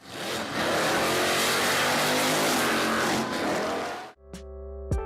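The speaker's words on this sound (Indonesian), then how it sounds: "Apakah kalian suka mobil yang memiliki suara menggelegar?" A Hennessey car engine roars loud and close in a long sustained blast with a squealing edge, then cuts off abruptly, leaving a brief tonal hum and a couple of faint clicks.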